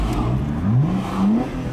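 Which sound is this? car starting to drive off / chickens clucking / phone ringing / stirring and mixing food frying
car starting to drive off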